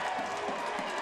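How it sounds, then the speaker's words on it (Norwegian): Raufoss football fans cheering at the end of a 2-0 home win over Lillestrøm, a steady, broad crowd roar filling the brief moment with a commentator's voice over it. "Raufoss-fansen. De jubler."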